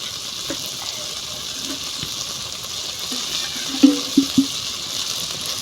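Water poured into a curry cooking in a pot, a steady gushing hiss with a few louder splashes near the end, close and with no talk.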